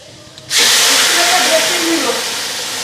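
Water poured into a hot pan of fried spices with crushed ginger sets off a sudden loud hiss of steam that holds strong and steady for over two seconds after a quiet start.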